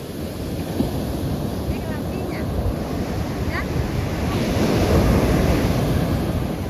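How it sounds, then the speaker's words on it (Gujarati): Steady surf roaring close by as sea waves wash and break continuously at a fair, with wind buffeting the microphone. "એ કેવો મોજો આવ્યો"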